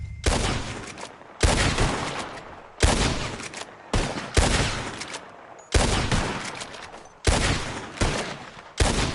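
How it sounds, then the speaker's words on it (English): Gunfire in a Red Dead Redemption 2 shooting contest: seven loud, sharp shots or quick volleys spaced about a second apart, each with a ringing decay, close and alone with no talk. "As soon as you see them, start shooting."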